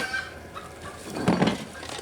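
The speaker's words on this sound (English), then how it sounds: "listen to the chickens. They're laughing at me over there." Chickens call out a short burst of squawking fowl noises a little way off, faint and brief against quiet outdoor background noise.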